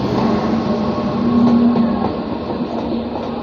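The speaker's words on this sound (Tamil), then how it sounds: "இங்கே ஒரு ட்ரெயின் வருது இப்போது." An express train rolls in at an Indian railway station, a steady loud rumble of wheels and carriages with a sustained low tone, swelling slightly mid-way and holding without any voices.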